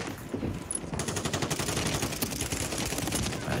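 Rapid automatic gunfire from Call of Duty Warzone on Rebirth Island, a dense, steady stream of shots after a brief quieter lead-in, loud and continuous throughout.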